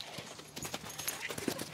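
A horse trots at a relaxed pace, its hooves clip-clopping in a quick, uneven rhythm at moderate distance.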